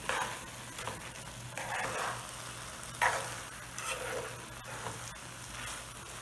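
Rice nearly cooked in a pot with a tablespoon of ghee added, stirred evenly while a faint steady sizzle plays underneath soft scraping sweeps of a spoon, quiet and without speech.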